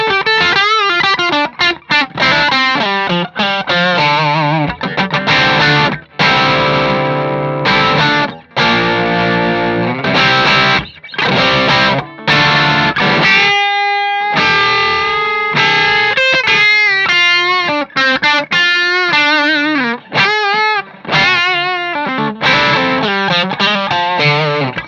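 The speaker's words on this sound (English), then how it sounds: "All those pinch harmonics" Distorted electric guitar on a Stratocaster, with squealing pinch harmonics ringing out through effects, played alone in loud sustained phrases with short pauses between lines.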